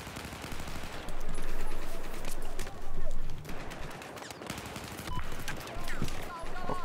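Rapid bursts of machine gun fire in a Battlefield 4 match, loud and repeated in several sustained volleys with short gaps between them.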